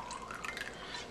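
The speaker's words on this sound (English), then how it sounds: "Splash of white wine" A splash of white wine poured into a measuring cup with olive oil, a short liquid trickle with drippy, splashy texture, close and brief.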